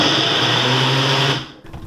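A blender whirs loudly and steadily as it purees a creamy cucumber dressing, then cuts off abruptly near the end, leaving only quiet kitchen noise.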